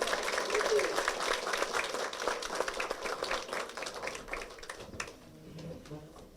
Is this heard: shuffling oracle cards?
no